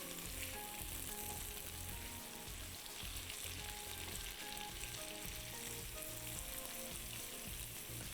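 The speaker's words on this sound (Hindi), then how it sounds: "चलिए एग डालेंगे, अंडे को आपने पका लेना है" Egg cooking in a hot frying pan, a steady dense sizzle and crackle of oil that holds loud and unbroken throughout, with no voices.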